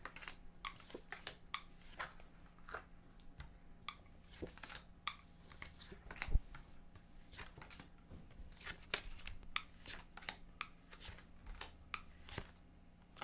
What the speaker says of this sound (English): I just cut the deck, and here we go